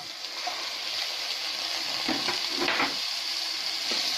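Onions fry with cumin in oil for a mushroom curry. A steady, moderate hiss runs throughout, with a few brief scraping touches and no talking.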